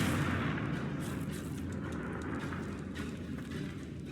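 A Confringo blasting spell explosion in Hogwarts Legacy, a loud booming rumble with crackling debris that stays heavy and sustained throughout, slowly easing off, with no talk over it.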